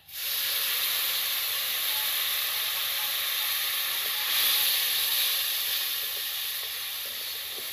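Water poured into a hot pan of crab and okra bursts into a loud, steady steaming hiss and sizzle that rises sharply at the start, swells midway, then eases slightly, with no voices.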